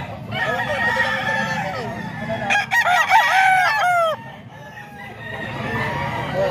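A white kelso gamefowl rooster crows loudly and close by, one full crow rising and falling over about two seconds, with other fowl clucking in the background.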